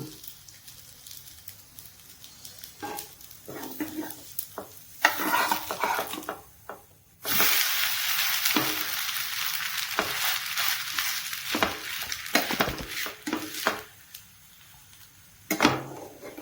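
Jowar masala dosa fries in oil on a hot pan, with soft crackling sizzle and intermittent scraping and stirring sounds, growing louder in bursts near the end.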